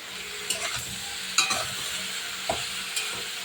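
Country chicken being stirred with salt and turmeric in a frying pan: a steady close sizzle broken by a handful of spatula scrapes and knocks at irregular intervals, with no talking.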